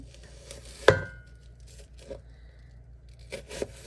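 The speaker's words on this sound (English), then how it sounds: "I thought I'd show you how I'm going to chop the onion for this dish" A knife cuts an onion into strips on a cutting board for beef stroganoff. One sharp, loud chop stands out, followed by softer, scattered cuts and scrapes at irregular intervals, close by.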